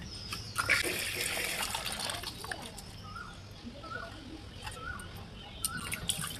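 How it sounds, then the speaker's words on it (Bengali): Mangoes and chillies rinsed under running water, a steady splashing trickle from a tap with brief louder splashes, heard alone with faint birdsong chirping in the background. "তো আমি এখন আম আর লঙ্কাগুলো ভালো করে ধুয়ে নেব।"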